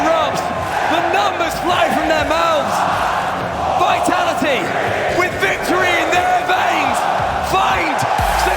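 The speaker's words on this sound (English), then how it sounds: "The crowd erupts." An arena crowd at a Rocket League championship erupts in a sustained, loud roar of cheering and shouting that fills the entire stretch without letting up.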